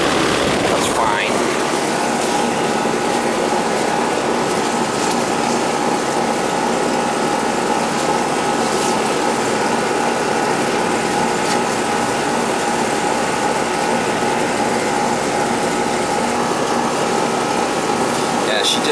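Outdoor air conditioning condenser unit running at a home with a thermostat problem, a steady close mechanical drone with a constant fan and compressor hum, unbroken throughout.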